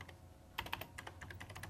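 Brisk keystrokes on a computer keyboard as a name is typed into FileMaker Pro database software, a close, quiet run of irregular clicks with a short burst near the middle.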